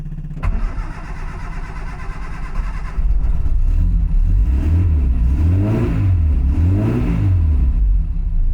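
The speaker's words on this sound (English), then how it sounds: "Love the sound of that engine." A 1954 Austin A30's small engine cranks and catches, runs unevenly at first, then revs up and down in several loud, close surges.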